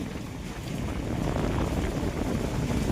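Strong gusty wind roars steadily into the microphone during a storm in Gujarat, with rain starting to spatter, a loud continuous rumbling buffet with no talking.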